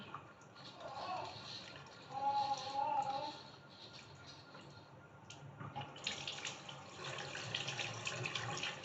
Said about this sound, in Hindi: पानी भी हल्का सा खोला हुआ है मैंने ताकि अच्छे से क्लीन हो जाए